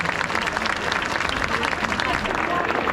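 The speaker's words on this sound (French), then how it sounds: "On peut les applaudir." A crowd at an outdoor street demonstration on a town square applauds volunteers with dense, continuous clapping that fills the whole stretch, with a voice speaking through it.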